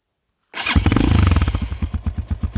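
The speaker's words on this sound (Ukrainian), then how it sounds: "А, як звучить ж вихлоп." A 2022 Viper V250L motorcycle, about 4,000 km on it, kicks into life after a brief silence and settles into a close, loud, lumpy exhaust idle with a steady pulsing beat.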